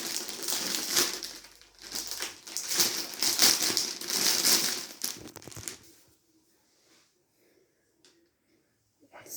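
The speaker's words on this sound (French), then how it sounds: "Bon, on va le déballer." Packaging around a t-shirt is torn open, with several seconds of close, loud crinkling and rustling of plastic that stops abruptly, followed by near silence with faint small movements.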